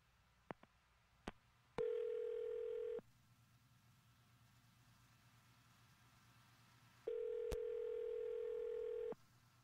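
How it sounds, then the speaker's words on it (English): Ringback tone on an outgoing phone call: two long, steady, mid-pitched ring tones a few seconds apart over faint line hiss, with a few soft clicks before the first ring. "I'm going to dial her phone number right now"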